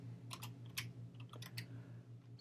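Quiet, close typing of code on a computer keyboard: a quick run of soft key clicks in irregular clusters over a low steady electrical hum.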